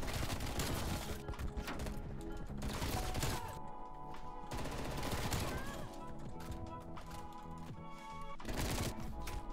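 Rapid FFAR rifle bursts in a first-person shooter video game, loud and close, with dense full-auto volleys broken by short pauses, under game music and effects, with a voice talking at times.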